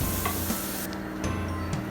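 Whole spices and rice roast in hot ghee for mansaf, making a steady close sizzle with light scraping and stirring strokes.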